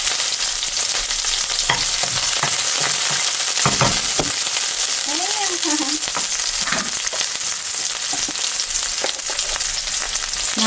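Chopped onion and green chilies sizzle steadily in hot oil, a constant loud fry with occasional stirring scrapes and clinks.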